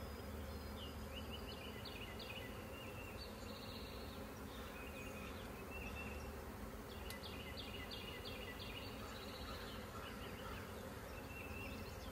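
A honeybee swarm being hived from a branch fills the air with a steady, dense buzzing hum, with individual bees droning close by now and then over the continuous drone, with no voices.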